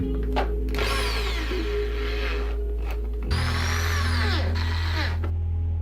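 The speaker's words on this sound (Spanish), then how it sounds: "apretando los tornillos" A power screwdriver whirs steadily and loudly up close as it drives screws into a mould casing around a silicone mould of a Dark Souls helmet, its pitch dropping and rising as each screw tightens, with a brief pause between runs.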